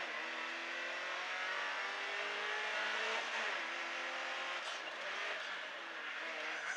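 Rally car pulling away from the start line, heard from inside as a steady engine roar rising through the gears, with a brief tyre scrape partway through.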